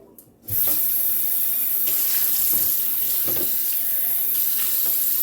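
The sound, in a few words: rinsing drained canned goods under running tap water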